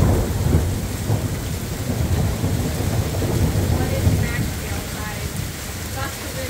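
Thunderstorm in Van Nuys, California, with torrential rain roaring steadily and low thunder rumbling underneath, loud and continuous throughout; a few faint bird-like chirps come through.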